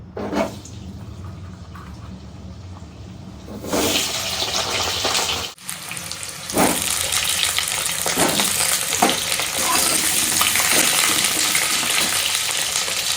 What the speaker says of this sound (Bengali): এদিকে আলুগুলো ভেজে নিই।